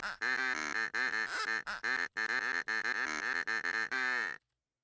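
A synthetic duck quack from a button in a video game plays as a loud, close, rapid string of nasal quacks with short gaps that stops abruptly near the end.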